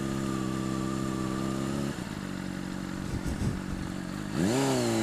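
A Honda CBR 600 sportbike fitted with an RS5 exhaust rumbles steadily with a low, harmonic engine tone, briefly dipping and then rising as the revs climb near the end, heard close and loud with no talking.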